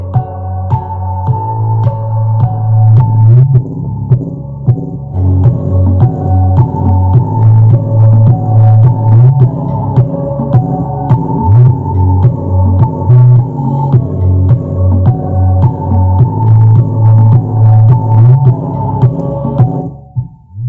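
Music with heavy, subwoofer-like bass plays loud and continuous through a homemade passive tone control with volume, treble, middle and bass knobs, with a steady rhythmic low end and no talking.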